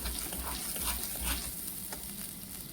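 Ginger, garlic and tomato paste with whole garam masala sizzles steadily in hot frying oil, a close, even hiss broken by soft scraping as it is stirred, with no talking.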